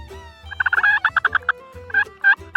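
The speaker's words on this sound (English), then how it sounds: "we headed off to listen for turkeys and to find where they're roosting at." Wild turkeys gobble in the spring at a ranch, several loud rapid rattling gobble bursts in quick succession, then two more calls after a short pause, close and clear.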